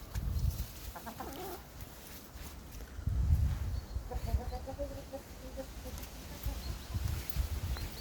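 Chickens on a farm during strong gusty wind cluck in short bursts of rising notes, fairly close, over a low background rumble with faint sounds of movement.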